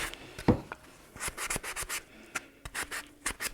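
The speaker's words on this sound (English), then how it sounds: "I always use a coarser grit versus a really fine grit doing this, because it seems to kind of grab it better and kind of peel it back" Coarse grit sandpaper rubs over painted wood in quick, uneven scratchy strokes, close up and fairly quiet.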